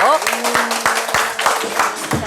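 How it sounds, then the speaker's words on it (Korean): A group at a middle-aged dance class claps along in time, about seven or eight crisp, evenly spaced claps over a sustained musical tone, with a voice briefly heard. "함께 박수치고 시작할게요"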